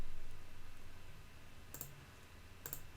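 Two sharp, faint computer mouse clicks sound during setup in Meta Business Manager, spaced about a second apart over a low, steady background hum.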